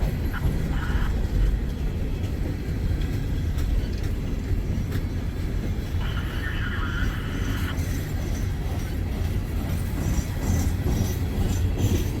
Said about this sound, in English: Now here's the way a train should sound.